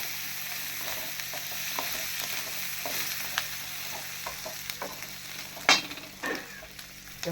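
Roasted gram (putnalu) for coconut chutney stirred in a hot pan, giving a steady close sizzle with scraping stir strokes and a louder clatter near the end.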